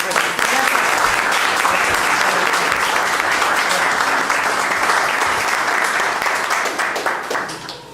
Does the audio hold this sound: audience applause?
yes